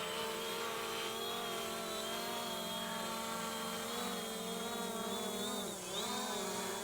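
Motors of a Fimi A3 drone whir steadily as it lifts off and flies, a loud, close, multi-toned whine that holds through the whole stretch with a brief wobble in pitch near the end.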